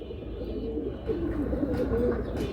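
Giribaz pigeons at a pigeon sale coo in low, rolling, overlapping calls, close by and continuous for a couple of seconds against a murmuring background.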